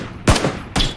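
Two sharp gunshots ring out close and loud in a PlayerUnknown's Battlegrounds match, roughly half a second apart, each a hard broadband crack with a short tail.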